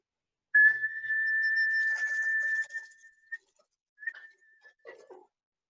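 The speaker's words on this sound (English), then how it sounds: "maybe if I whistle, we'll get the other one" A person whistles to call a cat, one long steady high note followed by a couple of short chirping whistles, near and clear against quiet.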